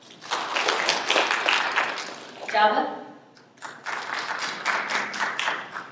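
A lecture audience gives a short burst of applause as a vote, brief scattered clapping between stretches of a speaker talking.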